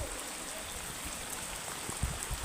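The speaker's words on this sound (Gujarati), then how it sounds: "હાલો જો વરસાદ ફૂલે ફૂલ" Heavy monsoon rain pours down over a village, a steady dense patter on surfaces with a few louder drips and thuds toward the end, and no voices.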